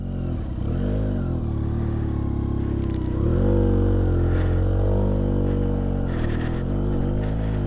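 A dirt bike carrying a rider and his mother as passenger travels a rough off-road track in Nepal, its engine droning steadily and close with repeated revs and pitch swings as it climbs and bumps along.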